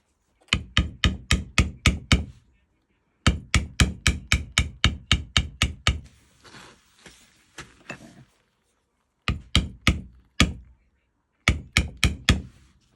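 Hammering on a beveler tool to bevel the petals of a flower design: rapid, crisp tapping in bursts of eight to ten strikes, separated by brief pauses and some softer rustling.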